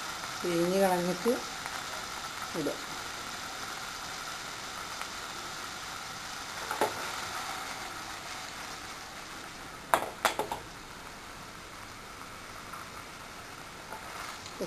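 Paneer, squeezed of wash water, frying and spluttering in hot butter in a pan for butter paneer masala, a steady close sizzle with a few sharp pops, while a voice speaks briefly near the start.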